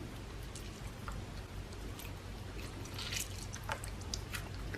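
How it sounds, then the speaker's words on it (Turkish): Lemon half squeezed by hand into a bowl of water, faint dripping and trickling of juice with small splashes, close and quiet, no talk. "Daha sonra limonu suyun içerisine bırakıyorum. Diğer bölümü de sıkalım."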